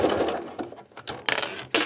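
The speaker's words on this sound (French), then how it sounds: "Et je vais commencer à coudre." Sewing machine stitching piping onto a fabric card holder, running in short close bursts with brief stops in between, fairly loud and with no talk over it.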